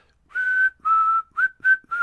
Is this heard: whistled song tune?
yes